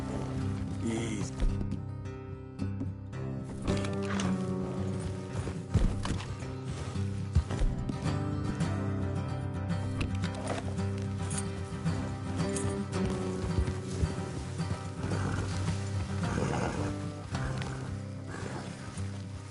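Horses trotting along an off-road trail in the Red Dead Redemption 2 video game, with steady hoof clip-clops running beneath a dense, continuous bed of game music and ambience.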